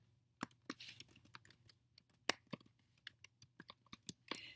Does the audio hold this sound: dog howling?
no